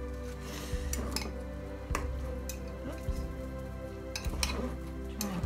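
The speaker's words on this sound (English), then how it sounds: "Fork, we're just gonna sort of gently toss this together." A fork tossing Spanish omelette ingredients in a bowl, with sparse clinks and scrapes of metal on the bowl at irregular intervals over a low steady background hum.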